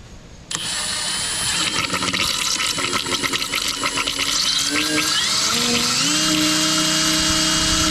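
An electric drill bores into metal on a 2JZ-swapped Jeep Cherokee during power steering work. The high whine starts abruptly and runs close and loud for several seconds, its pitch shifting as the bit bites and then spins freely.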